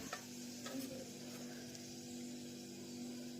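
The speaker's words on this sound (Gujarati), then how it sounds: "મસ્ત મજાનો વઘાર થઈ જશે" Spices sizzle in hot oil for a dal tempering, a faint, steady frying hiss with a low hum beneath and a few soft ticks. No voices are heard.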